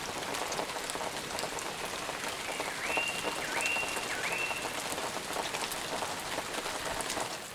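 Steady rain falls through an April forest at a bushcraft camp, a dense, even patter on leaves and ground that holds across the whole stretch, with a few brief tonal bird chirps in the middle.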